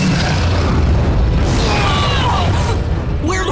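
Dark Fire attack effect from the Redakai cartoon, a loud continuous roaring rush of flames with booming, bursting texture and whooshing sweeps throughout.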